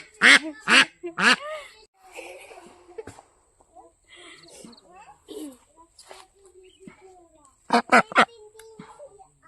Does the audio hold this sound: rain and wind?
no